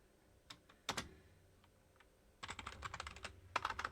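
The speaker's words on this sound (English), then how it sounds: "This keyboard is really annoying. I keep pressing the wrong buttons on it." Fingers tap on a computer keyboard nearby, a few scattered clicks first, then a quick run of rapid keystrokes, then another short burst, with no talking.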